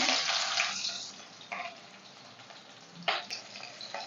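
Chopped onion with a few sugar grains frying in hot oil for a spicy home-style chicken pasta, a steady close sizzle with a couple of sharper bursts of crackle as pieces hit the pan.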